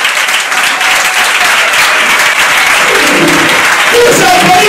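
Loud, continuous applause from a church congregation acclaiming the Lord fills the room, a thick wash of many hands clapping close by, with voices mixed in and a sung or called tone rising near the end.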